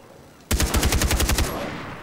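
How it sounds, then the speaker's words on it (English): Rapid burst of automatic gunfire in the video game Far Cry 3, about a dozen close, loud shots in quick succession after a moment of quiet, ending abruptly. "Getting shot at."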